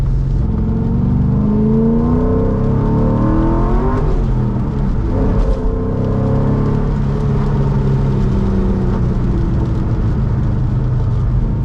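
Nissan Skyline R34 engine revved lightly at about 20% throttle during skids, a loud, close, continuous drone that rises and falls in pitch with each blip, heard alone without talk.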